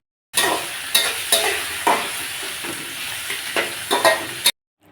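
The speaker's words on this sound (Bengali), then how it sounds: "তেলটা খুব ভালো মতো গরম হয়ে আসছে, এখন আমি এইগুলো সব দিয়ে দিলাম, দিয়ে ভাজবো।" Chopped onion, green chilli, ginger and tomato hit hot oil in a pan, giving a loud, steady sizzle with several sharp bursts and stirring scrapes, ending abruptly; no talking.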